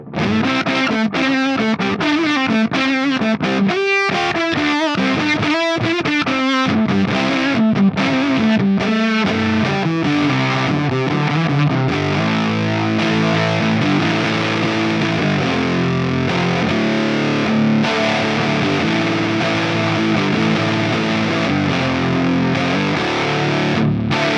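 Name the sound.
electric guitar through Way Huge Swollen Pickle MKII fuzz pedal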